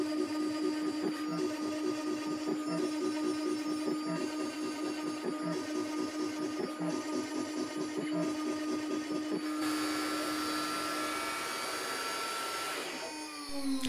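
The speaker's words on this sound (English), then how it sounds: "After every CNC carving operation, the spindle returns to the home start position." CNC router spindle at 18,000 RPM carving a guitar fretboard, a steady high whine with rhythmic pulsing cuts and a vacuum-like roar, shifting to a brighter hiss near the end as the spindle moves away, no talk.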